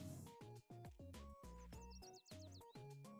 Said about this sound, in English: Music of birds playing and chirping joyfully.